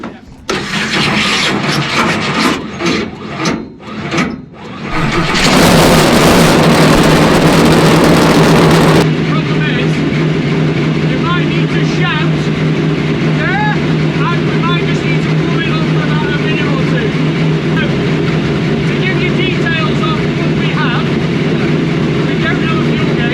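A 900 BHP Dodge Charger NASCAR engine, cold, cranks with several rhythmic starter turns, then bursts into a very loud, roaring start and settles into a harsh, continuous high-volume idle close by, with voices briefly audible under it.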